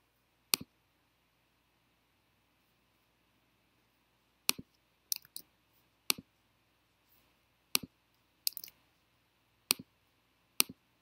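A computer mouse gives sharp, close clicks, about ten of them, spread irregularly across near silence, some landing singly and others in quick doubles.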